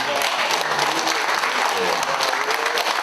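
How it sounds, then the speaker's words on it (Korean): A crowd at a hometown figures' reception in Gwangju claps steadily and fairly loudly throughout, a dense wash of applause with voices faintly mixed in. "큰 박수 쳐주십시오"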